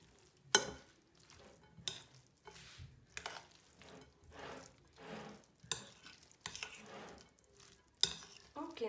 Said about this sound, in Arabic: العناصر كلها، غادي نحركوها مع بعضياتنا